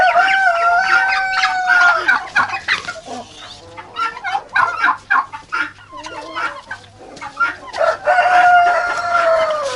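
Loud poultry calls close by: a rooster's crow and a rapid stream of gobbling from turkeys mating, several birds calling over one another.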